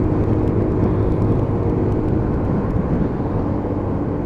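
A Lexmoto Titan 125cc motorbike rides through traffic with a steady, loud engine drone and rushing wind noise that never lets up.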